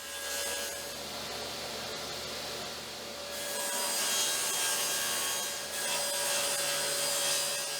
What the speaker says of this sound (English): I can switch to 1/2 inch plywood and cut out those parts